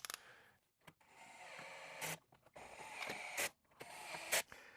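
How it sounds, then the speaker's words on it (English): A 7mm socket on a low torque driver tightens bolts on a Jeep JL fuse box, giving short bursts of whirring and ratcheting separated by brief pauses, quiet and close. "So we're going to use our 7mm socket on a low torque setting."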